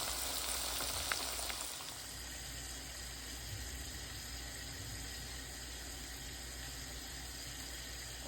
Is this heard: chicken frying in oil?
yes